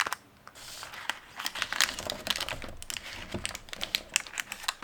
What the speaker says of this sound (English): when you fold it in half like we've done with the other one